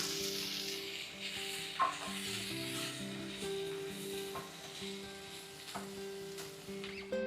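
Amaranth leaves cook in a pan for chutney, giving a faint, soft sizzle with occasional light scrapes under a quiet, steady tonal hum.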